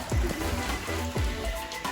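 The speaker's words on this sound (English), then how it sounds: "It is pouring rain, but she is sitting under the canopy" Pouring rain falling outside around a canopy, a dense close wash of drops with a few low thumps mixed in, no talking.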